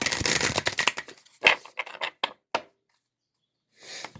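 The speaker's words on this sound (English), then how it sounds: "We'll go ahead and shuffle these cards." A deck of cards is shuffled close up, a quick riffle burst followed by several separate crisp flicks and snaps, then a pause of near silence.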